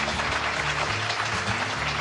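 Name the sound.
applause for newlyweds at wedding ceremony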